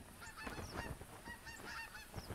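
Geese in a hunting game honk continuously, a dense overlapping chorus of calls from a flock, fairly loud and steady without voices.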